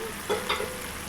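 Masala frying in oil in a pan for a chicken fry, cooked until the oil separates: a soft hiss with a couple of brief stirring scrapes in a short, quiet burst.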